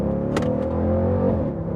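The V8 of a 2024 Dodge Durango SRT 392 in track mode gives a loud, close, deep rumble. It holds steady briefly, with a short rise in the engine note partway through.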